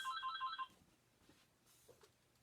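A mobile phone rings indoors with a short burst of bright electronic ringtone beeps, then cuts off, leaving faint room noise.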